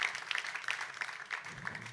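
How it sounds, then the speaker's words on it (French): Faint, steady applause from an audience after a talk on mathematics in the city, with dense scattered clapping that holds at a low level for the full two seconds. "Merci beaucoup Marc Barthélémy, on vous applaudit."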